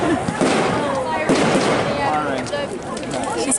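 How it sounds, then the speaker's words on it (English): Bonfire Night fireworks crackle and pop in a dense, continuous barrage with occasional sharper bangs, loud and fairly close, while a person talks over them. "reacted well to the fireworks, didn't she?"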